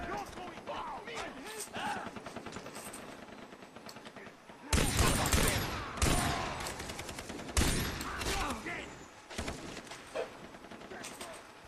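Repeated bursts of small-gun fire in the video game Far Cry 3, with rapid crackling volleys that get loud and dense in the second half, mixed with game effects and talking voices.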